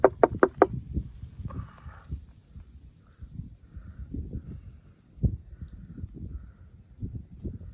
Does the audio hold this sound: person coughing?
no